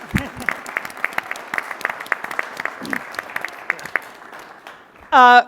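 An audience at a New York press announcement for an art and science program claps in scattered, moderate applause that thins out, ending with a brief burst of a voice.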